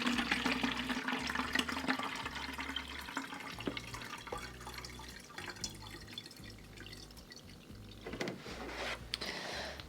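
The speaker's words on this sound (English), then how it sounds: "Fill our watering can up." Water pours into a watering can while repotting a Monstera Aurea, a steady close splashing and trickling stream with irregular drips, fairly faint and running continuously with no talk.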